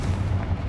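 A Confringo fire blast spell from Hogwarts Legacy, cast during battle, booms out as one dense low burst that keeps rumbling through a short moment.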